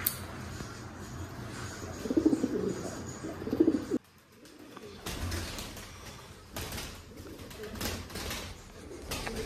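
Pigeons coo in a few soft, throaty bursts early on, then give way to a mix of shuffling, knocking and background bustle, with voices faint in the distance.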